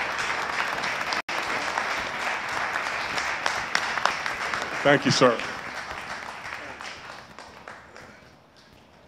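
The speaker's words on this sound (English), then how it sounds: "let's all give a round of applause to the great governor of West Virginia" A crowd applauds the governor of West Virginia at an economic development announcement, steady clapping filling most of the stretch before tapering off, with a brief spoken thanks partway through.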